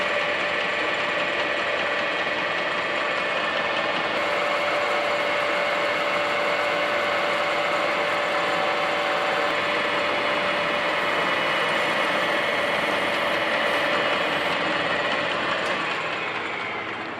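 A metal lathe turns down the outside diameter of a replacement gear blank for a blacksmith blower, a steady continuous mechanical whir with a high tonal whine holding evenly and close throughout, no talking.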